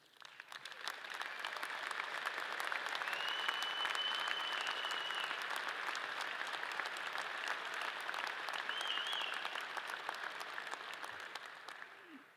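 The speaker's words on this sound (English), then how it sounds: "Thank you for that round of applause for all the active duty and veterans that have served or are currently serving this great country." A commencement audience at a college of business applauds active-duty service members and veterans, a steady, distant wash of many hands clapping that holds evenly throughout with little else audible.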